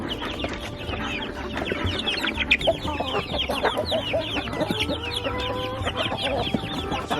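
Chickens in a backyard flock cluck busily in the morning, a dense overlapping chatter of short calls close by, continuous and fairly loud.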